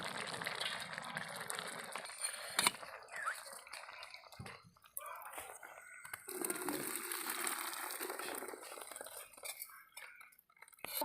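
Boiled vegetables for chow mein tipped out of a pot to drain, with a wash of pouring water mixed with clinks and clatter of metal cookware, steady and fairly close for several seconds.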